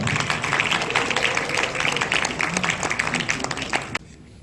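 Audience applause at a university aviation college academic conference, welcoming a student presentation team; dense steady clapping for about four seconds, then cutting off abruptly.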